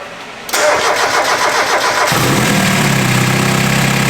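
A car engine cranks briefly, catches and roars to life, then settles into a steady, loud idle close by, with an exhaust leak.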